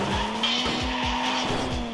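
A car in the Reckless Getaway 2 game skids through a turn, its tires squealing in a steady pulsing whine over a droning engine, loud and close with no talk.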